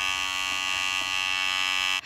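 An electric make-up brush cleaner spins a brush with a steady high-pitched motorized whine and buzz, close and continuous, cutting off sharply at the end with no speech.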